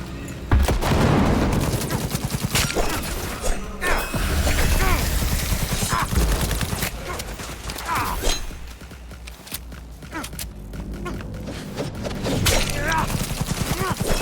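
Rapid gunfire fills a Cyberpunk 2077 firefight, with bursts of shots and fusillades continuing loudly throughout over a dense mix of game sounds, along with a few crashes and footsteps.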